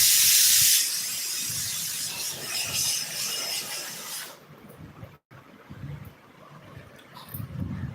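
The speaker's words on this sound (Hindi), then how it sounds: "देखो कुकर आवाज़ दे रहा है" A loud, steady high-pitched steam hiss rushes out of a pressure cooker whistle for about four seconds, then cuts off, leaving quieter background noise and rustling.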